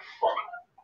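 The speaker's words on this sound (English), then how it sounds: "I'm glad you got done with that before the dog started barking." A dog gives a short, muffled bark or huff, faint and fairly distant, followed by a brief pause and the start of another sound.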